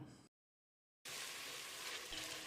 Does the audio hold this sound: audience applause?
no